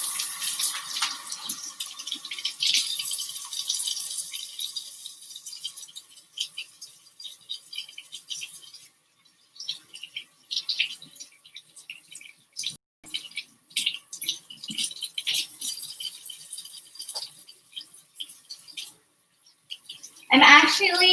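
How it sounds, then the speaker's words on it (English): Food being rinsed under a running kitchen tap, the water splashing steadily for a while, then stopping and starting in short bursts, with a louder gush near the end; a person talks over parts of it. "So I'm going to step to this side and just give these a rinse."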